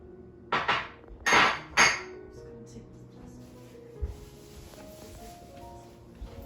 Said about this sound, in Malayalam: ഇത് നമ്മൾ ഡിഷ് വാഷറിൽ പാത്രങ്ങൾ കഴുകാൻ വേണ്ടിയിട്ട് വെക്കുന്നത് കേട്ടോ